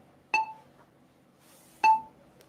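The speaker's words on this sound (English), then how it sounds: "So we have something called a metronome. So I'm just using an app over here." A metronome app clicking slowly at 40 beats per minute, two sharp bright ticks spaced well apart over a quiet background.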